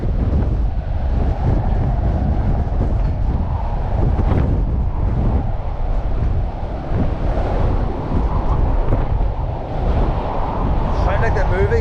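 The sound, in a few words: wind blowing through a fence during a storm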